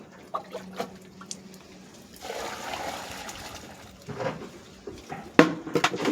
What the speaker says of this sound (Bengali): এই মিশ্রণটির উপর আরও 10 লিটার জল দেওয়া হলো।